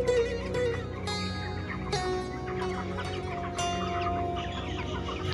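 Chickens on a poultry farm cluck close by and all around, with repeated overlapping calls and bursts of louder squawks over steady flock noise.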